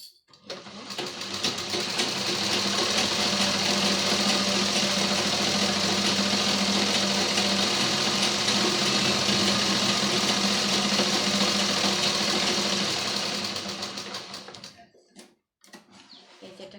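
A sewing machine stitching a shopping bag: one loud, steady, close mechanical whir that runs for about thirteen seconds, then stops, followed by faint handling clicks.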